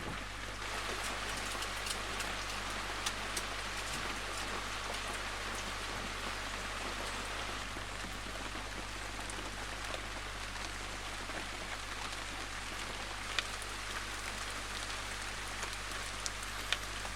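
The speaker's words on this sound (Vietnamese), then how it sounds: "Cơn mưa kéo dài." Prolonged steady rain falling outside a rural house, a dense continuous hiss of drops on surfaces with occasional louder patters over a low constant rumble, no voices.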